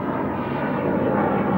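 An F-105 Thunderchief jet flies by with a steady, loud, broadband roar and rumble, continuous and close without any voices.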